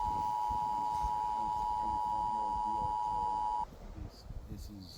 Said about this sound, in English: we got emergency alerts on our phone about a wildfire that is north of Jacob Lake